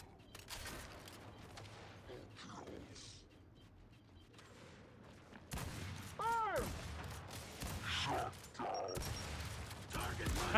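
Gunfire and weapon mechanisms in Gears 5 free-for-all play, with bursts of shots and clanking handling noises, sparse and quieter at first, then louder and denser in the second half.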